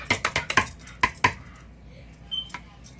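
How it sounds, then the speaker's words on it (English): A spoon adds a tablespoon of custard powder, with a series of sharp metal taps and clinks against a bowl or tin, several in quick succession and then a couple more after a pause. "I'm going to add 1 tablespoon of the custard powder"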